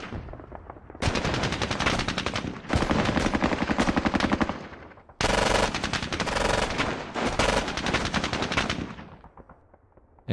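Sustained bursts of automatic and rifle gunfire from the wargame Squad Battles, loud and dense, rolling in two long volleys with a brief gap between them before tapering off at the end.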